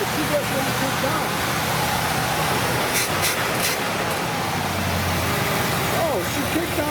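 A restored 1970 Buick Wildcat engine runs at a steady idle, a low continuous rumble heard from nearby with faint background noise and some clicks.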